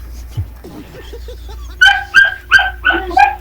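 A dog barks five times in quick succession, loud and near, after a few softer whimpers and yips.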